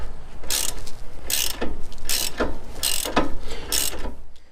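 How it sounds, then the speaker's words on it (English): A ratchet fitted with a 3/8-to-1/2 inch drive socket loosens brake bolts on a Ram 1500 pickup, clicking loudly in five distinct bursts of rapid pawl ticks with short pauses between them. "this is I think a 3/8 drive coupled to a 1/2 inch drive socket, so we'll break those loose."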